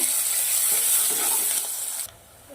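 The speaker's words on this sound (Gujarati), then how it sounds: "ડુંગળી મરચાંને સરસ શેકાવા દઈશું તેલના અંદર સાતડી લેવાના છે" Onions and chilies sauté in hot oil for a Kathiyawadi dish, giving a loud, steady close-up sizzle that drops off abruptly near the end, with no talk.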